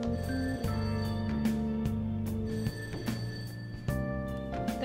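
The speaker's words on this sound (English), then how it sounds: "That ringing sound isn't coming from my cell phone." A telephone ringing downstairs in the video game Persona 5 Royal, heard as repeated sharp ring bursts over a steady, layered musical background, with no voices.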